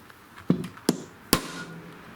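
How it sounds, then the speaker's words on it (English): Three sharp metallic hammer strikes on a starter punch marking a drill spot on a John Deere lawn tractor deck pulley shaft, spaced unevenly, close and crisp, each with a short ringing decay. "Now I'm using a starter punch just to start up where I'm going to be drilling in here."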